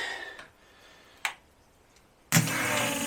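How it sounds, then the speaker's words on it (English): A 1977 V12 coupe engine with the rear exhaust section missing makes a couple of faint ticks and clicks, then suddenly fires up loud and keeps running with a raw, open rumble. "We're missing the back bit of the exhaust, that's probably why it's a little loud."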